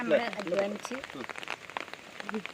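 Rain falls steadily in an outdoor spot where flowers are sold, a soft patter beneath someone talking close by.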